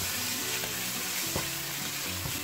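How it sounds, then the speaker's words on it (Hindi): Ground spices with coriander powder frying in a pan for vegetable pulao, a steady close sizzle with occasional scraping stirs and light clinks. "मसाले के साथ मैं 1 मिनट तक और इसको इसी तरह फ्राई करूंगा।"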